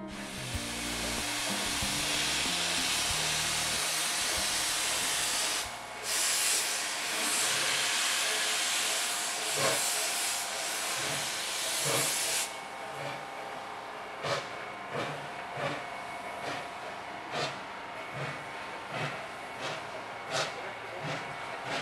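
Model steam locomotive pulling away with strong exhaust beats, a dense hissing steam roar at first giving way to a series of sharp, regular chuffs, loud and close.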